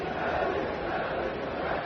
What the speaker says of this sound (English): crowd chanting Ellie's name